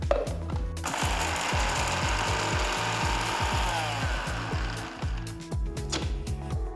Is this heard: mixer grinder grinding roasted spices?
yes